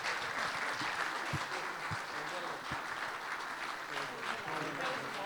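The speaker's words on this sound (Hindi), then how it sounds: "तालियां जोरदार बजती रहें" Applause from a Christmas carols program audience marking a pastor's 24th anniversary, steady dense clapping filling the whole stretch with a few louder claps and some voices mixed in.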